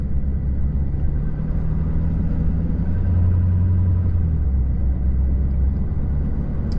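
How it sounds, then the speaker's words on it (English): Ford F350 diesel pickup truck driving, heard as a steady low engine rumble and road drone from inside the cab, continuous and fairly loud throughout with no talking. "And the truck I'm driving is F350 Ford."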